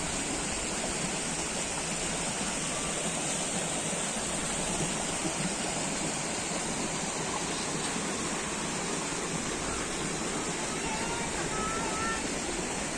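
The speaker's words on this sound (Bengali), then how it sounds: "পানির একদম শব্দ উঠে গেছে দেখুন" Rainwater rushes after a storm through a village channel toward a river, a steady, loud broadband flow like a stream or small waterfall, continuous and even throughout with no breaks.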